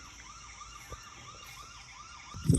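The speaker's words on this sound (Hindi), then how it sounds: "अलार्म उस पर जो है वो वार्निंग देता है कि आगे कुछ गुजर रहा है" A CCTV motion detector alarm wails quietly in a repeating rising-and-falling electronic siren pattern, steady and faint, ending with a brief louder thump.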